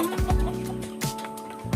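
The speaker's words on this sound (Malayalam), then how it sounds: "ഈ കാണുന്നത് ഈജിപ്തിലെ നാടൻ കോഴിയായ ഫയോമി എന്ന് പറയുന്നതായ കോഴിയാണ്" Fayoumi chickens, an Egyptian native breed of original lineage, cluck in a few short, close bursts over a steady low background, with no one speaking.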